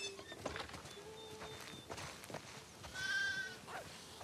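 A few video game sheep bleats, one louder wavering cry near the end, amid light shuffling and footsteps, from The Last of Us Part II.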